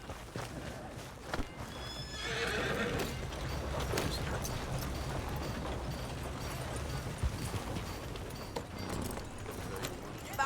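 A horse in Red Dead Redemption 2 gallops with a steady clip-clop of hooves and whinnies, the ride rumbling on under occasional talk.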